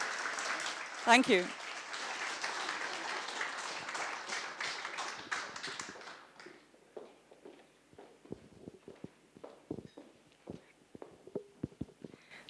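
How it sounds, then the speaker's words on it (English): Audience applause at a crypto accountancy talk in Scotland, a dense burst of clapping for about six seconds that thins into scattered claps; a speaker briefly thanks the crowd. "A round of applause, please."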